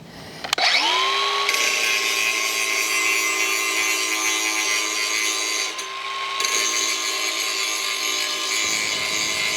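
Steel pipe ends being tapered with a power tool for John Deere 1025R front tractor pallet forks, a steady loud grinding whine that starts abruptly and holds for several seconds before cutting off.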